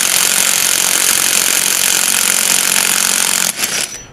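A 550 Nm cordless impact wrench breaks loose a tight bolt in a car repair shop, hammering loudly and continuously at close range for about three and a half seconds before cutting off abruptly.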